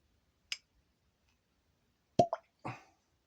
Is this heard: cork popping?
yes